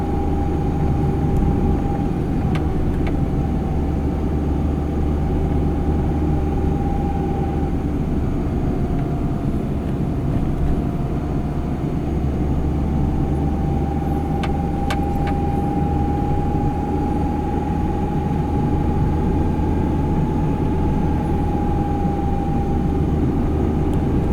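Steady, loud engine drone and road rumble from inside a non-4x4 car climbing a rural road in Fuerteventura, with a constant low hum and a faint engine tone that rises and falls slightly.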